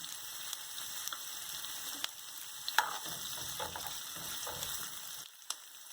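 Vegetables for a vegetarian ackee rasta pasta sauteing gently in a pan over a low flame, a soft steady sizzle with occasional light clicks and scrapes of stirring, close by and fairly quiet.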